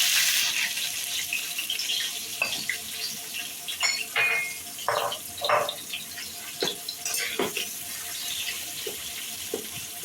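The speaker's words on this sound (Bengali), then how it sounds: "এখন আমি পেঁয়াজ কুচি দিব।" Chopped onion dropped into hot oil and garam masala in a wok, frying with a steady hiss, broken by clinks and short scraping stirs up close, for a home-style chicken curry.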